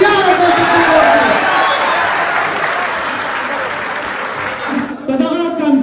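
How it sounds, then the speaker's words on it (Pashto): Sustained applause from an audience of Afghans gathered in Paris, clapping for children; dense, steady clapping fills the room for about five seconds, then fades as a voice begins speaking. "دغه ماشومانو ته مو ویاړ او چکچکې وکړئ"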